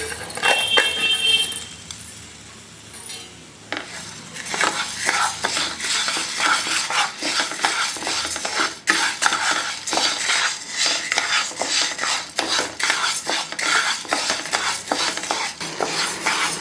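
Rice roasting in a pan while a spatula stirs it constantly, giving repeated scraping and clattering strokes over a light dry sizzle, close and fairly loud.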